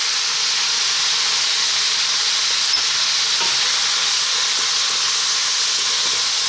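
Onion and garlic frying with beef in a stew pot give a steady, loud hiss of sizzling that runs unbroken throughout, with a faint click partway through and no talking.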